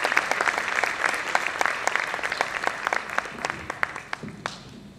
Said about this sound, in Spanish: para quienes le pedimos un fuerte aplauso